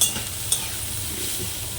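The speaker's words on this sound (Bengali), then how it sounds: "আর একটু নাড়াচাড়া করে নিচ্ছি" Boiled potatoes with a pinch of turmeric stirred in a pan, giving a close, steady sizzle with one brief scrape of the utensil.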